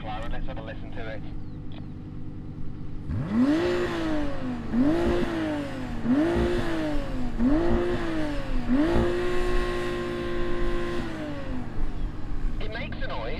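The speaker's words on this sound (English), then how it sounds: "I'm going to rev up this McLaren. Let's have a listen to it." A McLaren sports car engine revs loudly up close with no soft limiter, five sharp bursts in a steady rhythm followed by one longer held rev before settling back down.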